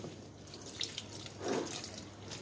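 Lukewarm water runs from a kitchen tap to thin sourdough starter, a faint, steady splashing stream with a slightly fuller gush midway.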